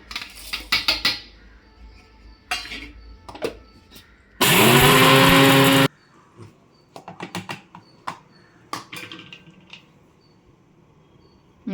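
A mixer grinder jar grinds dry-roasted fennel and pepper into spice powder for Chettinad-style chicken sukka, one loud whirring burst of about a second and a half, framed by scattered clinks and taps of kitchen utensils.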